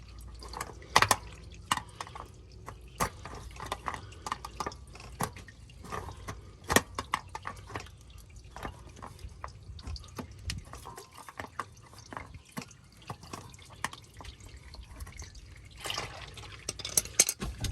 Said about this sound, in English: Oil's gonna come out